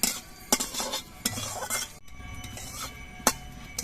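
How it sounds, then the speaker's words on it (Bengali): Whole cumin seeds, black peppercorns and bay leaves fry in hot oil in a pan, a soft steady sizzle broken by several sharp clinks of a metal spoon stirring against the pan. "এবার মশলাগুলো কিছুক্ষণ ভেজে নেব লালচে রং করে"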